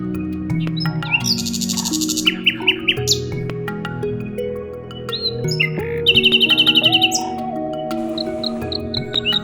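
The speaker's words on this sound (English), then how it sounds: "Here's a nightingale with its breathtaking chirping." A nightingale sings in North Cyprus, loud, clear trills and rapid repeated notes in bursts, heard over soft background music.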